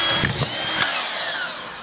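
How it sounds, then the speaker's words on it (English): A collated screw gun drives a screw, its motor whining loud and close in one continuous burst with a short pitch change as the screw seats. "Collated screw guns,"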